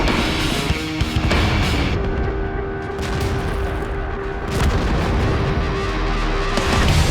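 Tank guns firing and shells exploding in World of Tanks, a dense and continuous roar of booms and impacts that stays loud throughout, with no gaps.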